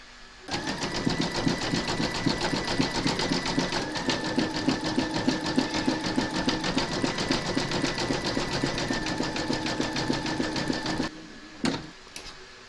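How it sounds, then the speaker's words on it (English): An embroidery machine zigzag-stitching a round around a bottle tag in green thread, a steady fast rhythmic whirring and needle tapping that runs continuously, then stops near the end with a couple of clicks. "Load your matching bobbin and thread colour for the zigzag stitching around the centre and exterior of the tag top into your machine, and then stitch round number 4."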